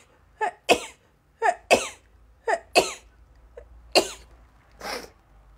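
A woman sneezes and coughs in a string of sharp, close bursts, about eight in all, spaced unevenly with short quiet gaps between them.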